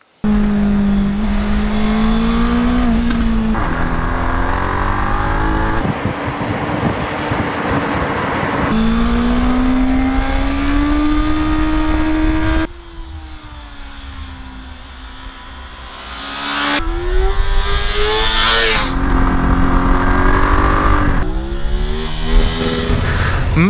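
A BMW F900R motorcycle rides through twisty roads, its engine rising and falling through repeated gear changes and revs, loud and close with steady wind rush.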